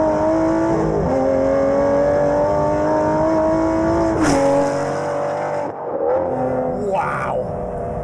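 An Aston Martin Vantage GT12 engine howls loud and close, holding a high steady rev before a sharp blip and drop, then lighter throttle stabs with crackles as it settles, a voice briefly heard near the end.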